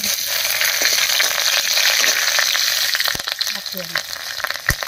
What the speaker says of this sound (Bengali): তেল গরম হয়ে গেছে, এবার তেলের মধ্যে দেবো 1 চামচ গোটা জিরা আর 2টো তেজপাতা।